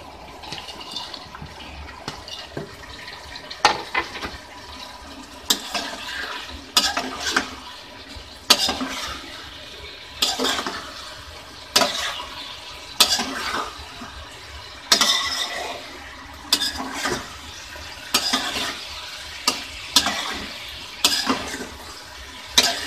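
Fried cauliflower is tipped into a pan of sauce and stirred for a cauliflower chilli, making repeated wet scraping and clattering strokes in a regular rhythm with spoon-on-pan knocks and no talking.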